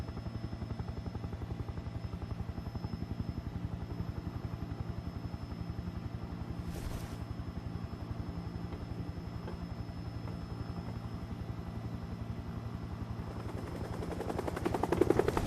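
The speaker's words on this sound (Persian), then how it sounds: "هلیکوپتر که نشست من پیاده میشم" A helicopter flies steadily before landing, its rotor chopping in a fast, even pulse throughout, growing louder and closer toward the end with no one talking.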